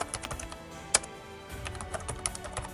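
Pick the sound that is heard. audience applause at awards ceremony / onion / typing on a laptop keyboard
typing on a laptop keyboard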